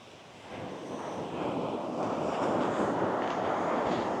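Ocean surf at a busy Phuket beach in Thailand rolls in as a steady, broad wash of breaking waves that swells slightly louder, with wind buffeting the microphone and no voices.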